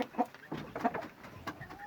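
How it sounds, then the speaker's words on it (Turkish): An ash-coloured Aseel hen clucks outdoors, a few soft, short, low calls spaced across the moment, fairly close but quiet. "Hatta küllü tavuğu dışarıda da göstermek istiyorum size."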